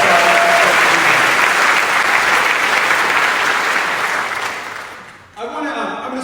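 A town hall crowd in Long Beach, California claps loudly and steadily for scouts and troops, dense applause that fades out before voices and cheers pick up again.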